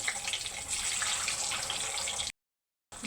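Eggs fry in a pan of hot oil seasoned with salt and turmeric, giving a dense, steady sizzle and hiss that cuts out briefly near the end before resuming.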